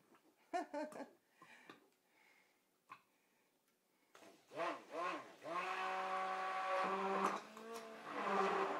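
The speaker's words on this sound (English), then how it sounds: "give the red one a quick stick blend" A stick blender whirs in bursts through red soap batter, first short tentative pulses, then a longer sustained buzzing run with shifting pitch, close and fairly loud, with no talking.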